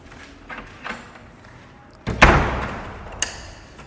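A door being shut and locked during a Christmas holiday visit in Tarlac, heard as a few light knocks followed by one loud slam and a brief rattling tail, then a sharp click.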